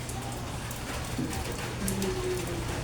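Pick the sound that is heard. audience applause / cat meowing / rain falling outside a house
rain falling outside a house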